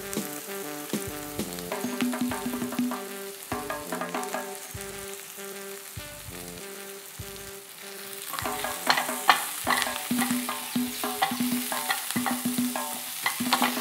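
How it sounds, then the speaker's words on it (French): Onions, mild peppers, spices, bouquet garni and four-spice mix sauté in a cast-iron pot for a banana and sausage stew, with a constant sizzle and repeated stirring scrapes that grow busier partway through, with no talking. "on va faire revenir l'ensemble"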